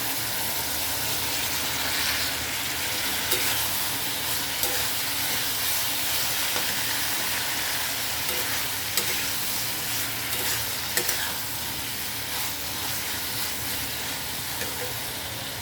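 Fried okra stirred into a tomato masala in a pan, giving a steady dense sizzle with a faint steamy hiss and intermittent scrapes and taps of a spatula, close and continuous.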